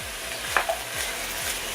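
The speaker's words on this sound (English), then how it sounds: "when you put bacon and onions together and how it fries" Bacon and onions fry in a pan with a steady close sizzle, broken by a couple of faint stirring scrapes.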